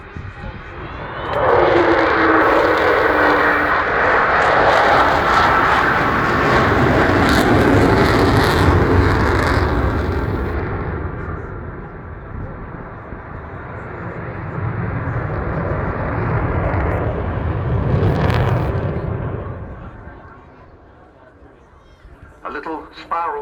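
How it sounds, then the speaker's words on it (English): An Avro Vulcan XH558 jet bomber flies at the Bournemouth Air Festival, a broad loud roar of jet engines swelling, fading and rising again over about twenty seconds before dropping away. "he's flying the Vulcan today as we watch."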